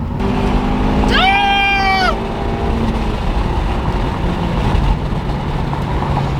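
A car drives along the road toward an auto parts store, giving a steady interior engine and road rumble throughout, with a brief rising tonal whine near the start.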